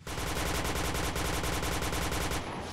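Rapid automatic gunfire from the Point Blank shooter game rattles loud and close in a steady, unbroken burst, cutting off just before the end.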